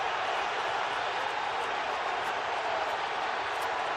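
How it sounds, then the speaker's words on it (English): Arena crowd at a Penguins–Flyers NHL playoff game roaring in a dense, continuous wash of cheering, loud and sustained, with no distinct individual voices. "That's why we're hearing the cheering here."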